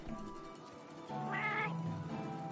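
Palico cat companion in the video game Monster Hunter World meowing, a short bright meow rising over steady game background sound, moderately close and clear.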